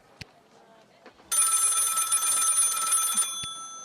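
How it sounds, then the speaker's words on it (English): A video game telephone rings once in a bright, sustained trill lasting about two seconds, loud and close, bracketed by a few soft clicks and taps before and after. "Phone's ringing."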